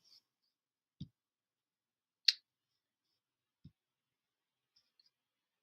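A few soft, isolated mouse clicks on a computer, spaced a second or more apart in a quiet room, with one slightly sharper click in the middle.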